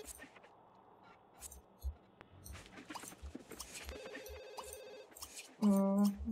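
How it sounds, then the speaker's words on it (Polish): A telephone rings in The Sims 2: scattered game clicks and small effects lead into a bright, loud electronic ring near the end. "Nie, jeszcze telefon dzwoni."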